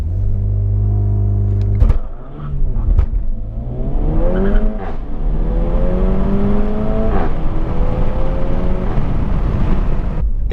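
A Renault Megane RS, a powerful front-wheel-drive hot hatch, idles loudly on launch control, then its engine note climbs in a sharp rising rev and pulls away in long accelerating sweeps, close and loud with no voices.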